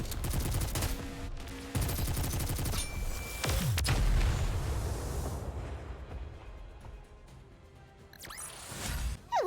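Rapid gunfire in the video game Nikke: loud stuttering automatic bursts in the first few seconds, followed by a booming impact that decays into a rumbling tail, with a brief metallic clatter near the end.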